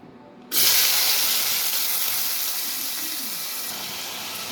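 Chicken masala hits a hot pan and sizzles, a sudden loud hiss that starts abruptly and then fades slowly into a steady, close sputter.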